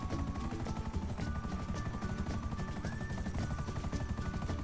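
A small helicopter in a racing video game thrums continuously, its rotor beating in a fast, even rhythm, loud and unbroken with no talking.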